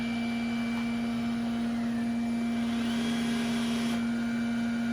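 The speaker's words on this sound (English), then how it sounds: "I can hear those wheels spinning." A steady mechanical whir with a constant high-pitched hum from an iRobot Roomba J7+ robot vacuum's small wheels spinning continuously against a surface, with no speech.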